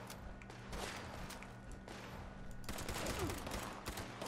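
Turret gunfire during a workshop defense in Fallout 76, rapid bursts of automatic shots repeating steadily, fairly close and continuous, with a brief faint voice.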